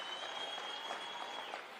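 Steady applause from a crowd at a rally in Machakos honouring a government minister, continuous and somewhat distant throughout.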